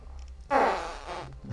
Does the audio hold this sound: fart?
yes